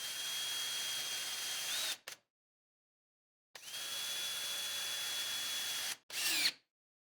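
A power tool driving motor mounting bolts on a towable hydraulic power unit pump, two long steady whirring runs with a gap between and a short final burst, close and alone.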